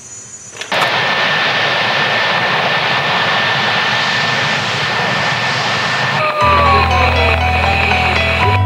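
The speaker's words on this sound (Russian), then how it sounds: "Сзади меня установлены газоперекачивающие агрегаты, приводом которого служит как раз авиационный двигатель." A jet-type aviation engine drives a gas compressor unit at a gas field, a loud steady roar filling the space up close, shifting to a lower droning hum with whining tones near the end.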